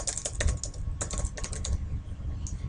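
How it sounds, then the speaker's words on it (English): Computer keyboard typing, bursts of quick close keystrokes in irregular clusters over a low hum, without speech. "I might even want to type"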